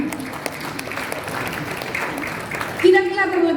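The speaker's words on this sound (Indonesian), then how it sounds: "Tepuk tangan dulu untuk para perempuan." Audience applause fills a university ceremony hall at UNTAD's 2021 inauguration of new professors: a steady, dense wash of clapping that runs for nearly three seconds before a voice begins speaking over it.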